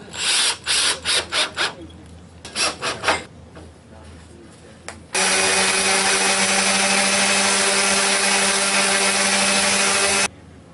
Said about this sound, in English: now I'll just take and put a trim screw in here and sink it in